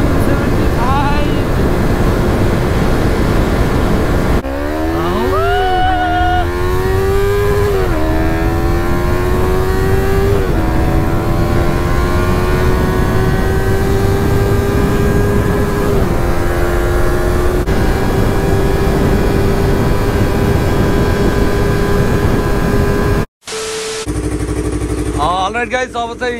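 A Yamaha R3 motorcycle running at speed in fourth gear, its engine a steady loud drone that rises and shifts in pitch between gear changes. Wind noise rushes over it throughout, and the sound cuts off briefly near the end.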